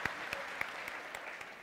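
A theater audience claps in a steady, fairly quiet patter of many hands, with a few sharper individual claps standing out.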